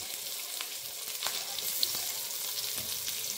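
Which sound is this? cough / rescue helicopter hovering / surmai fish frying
surmai fish frying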